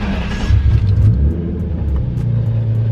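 A turbocharged Nissan 350Z accelerates with a loud, close engine rumble that builds and surges, heard from inside the car with no talking.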